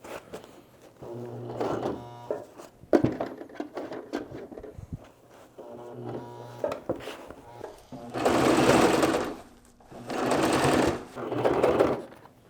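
Sewing machine back stitching a roll top on a bag, several short bursts of rapid needle chatter separated by pauses with handling clicks, the final bursts longer and louder, close by.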